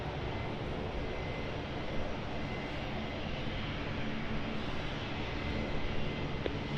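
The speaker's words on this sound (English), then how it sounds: "So here comes that Air New Zealand A320 Neo." An Air New Zealand Airbus A320neo lands at Brisbane Airport. A steady, broad jet roar holds evenly throughout at moderate distance, with no voices on top.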